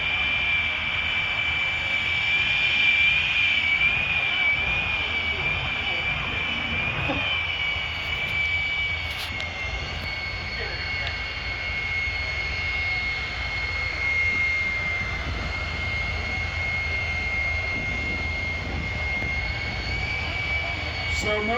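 A jet-powered semi truck's jet engine runs at a steady idle, its whine holding a constant pitch over a broad, continuous roar that stays loud and even throughout.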